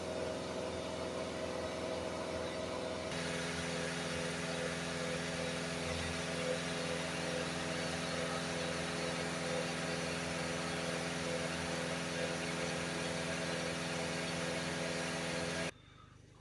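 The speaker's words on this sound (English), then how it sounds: "So just give the van some revs." Citroen Relay 2.0 diesel van engine running steadily, its tone stepping up after about three seconds as the revs are raised and held, with a leaky exhaust; a continuous mid-level drone that cuts off near the end.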